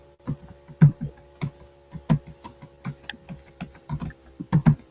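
Rapid, uneven clicking of a computer keyboard being typed on, steady and fairly close, with no voices.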